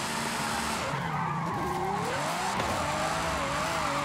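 A Ferrari in Forza Horizon 5 revs hard with a steady, loud engine drone while the tires skid and squeal, the engine pitch rising and falling through the run, with no voices over it.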